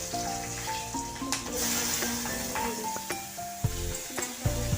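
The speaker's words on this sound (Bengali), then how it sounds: "দেখুন ফোড়নে দিয়ে দিচ্ছি অল্প পরিমাণ কালো জিরে, দুটো কাঁচা লঙ্কা," Black cumin and green chillies frying in mustard oil, a steady close hiss and crackle under background tonal sounds, with a couple of sharp knocks near the end.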